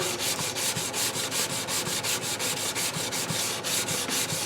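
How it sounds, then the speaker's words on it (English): Sandpaper rubs down a wooden German mantel clock case in quick, even back-and-forth strokes, a close, steady rasping rhythm with no talking. "we're just giving this the final rub here"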